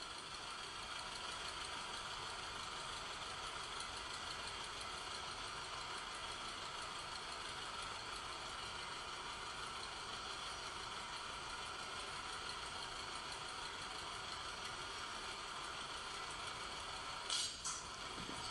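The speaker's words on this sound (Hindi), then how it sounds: "अब लगभग 10 मीटर तक ये चला गया है ट्रैक्टर" A tractor engine runs steadily while pulling a drip irrigation tube across a field, a constant low mechanical hum with no break over a long stretch, faint and distant, ending in a brief sharp knock near the end.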